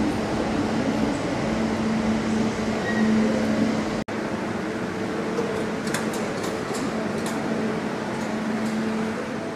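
Metro line 5 train in motion, a steady enclosed rumble and hum of the carriage with faint tonal whine, one abrupt momentary dropout midway, no talk.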